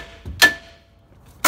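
A hammer strikes a 2014-2018 Chevrolet Silverado or GMC Sierra upper control arm to free it: two sharp metallic whacks about a second apart, near and distinct against quiet.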